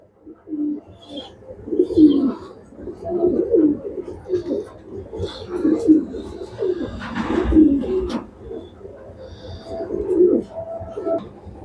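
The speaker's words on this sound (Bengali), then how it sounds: "কিন্তু এগুলা লাইনের কবুতর সব।" Racing pigeons coo close by in soft, repeated rolling calls that pulse steadily throughout, with a little talk in the background.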